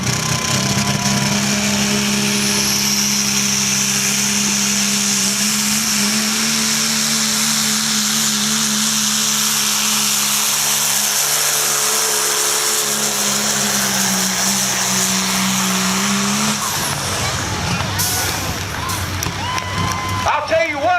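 A 1997 Dodge truck pulls the sled at a tractor pull, its engine holding a loud, steady high-pitched roar for about sixteen seconds before cutting out. An announcer talks over it.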